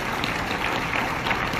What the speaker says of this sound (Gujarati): ઉભા થઈ અને તાળીઓ પાડી એમને અભિનંદન આપવા માટે હું આપ સૌને વિનંતી કરું છું